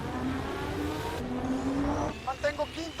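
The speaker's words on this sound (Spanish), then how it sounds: "le pedimos una carrera de coches hiperrealista en la playa." Race cars speed along a beach in an AI-generated race scene, engines droning and revving loudly and up close, with tire noise, under a voice.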